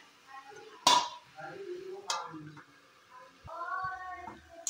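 Potatoes stirred with spices in a pan, giving sparse clinks and scrapes of a utensil against the metal, with a couple of sharper knocks and soft background sizzle between them.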